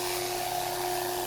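A wood lathe spins a turned piece during sanding, producing a steady, loud motor whine with a constant high tone over broad hissing friction. The sound is close and unbroken throughout.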